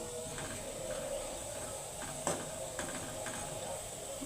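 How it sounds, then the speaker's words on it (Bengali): Dal (lentils) simmering in a pan for a home midday meal, giving a steady soft hiss and sizzle with faint stirring scrapes and a couple of sharp clinks, close and fairly quiet. "ডাল রান্না করতেছি"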